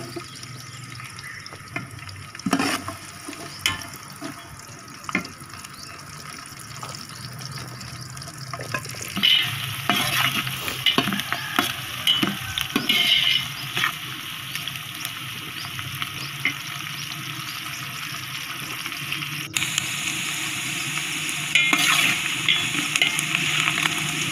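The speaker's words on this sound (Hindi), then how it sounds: "जिसमें काली मिर्च, बादियान के फूल, लौंग, जावित्री, दालचीनी, सब्ज़ इलायची, बड़ी इलायची, तेज़पात और सब्ज़ ज़ीरा। सबसे पहले ये चीज़ें घी में डाल देंगे।" Whole spices sizzle steadily in hot ghee for chicken biryani: black pepper, star anise, cloves, mace, cinnamon, green and black cardamom, bay leaf and cumin. The frying hiss builds as they are stirred, close up and with no talk.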